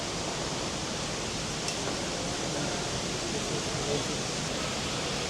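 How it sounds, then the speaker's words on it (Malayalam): A falling-water sound effect plays in an indoor garden inside an airport, giving a soft, steady, unbroken rush like a small waterfall, faint and even throughout. "വെള്ളം വീഴുന്ന സൗണ്ട് വെക്കില്ലേ?"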